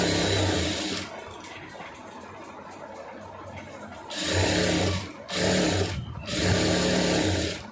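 A sewing machine stitches a lining blouse in quick motor-driven runs: one burst at the start, then a quieter pause, then three more loud bursts separated by brief stops.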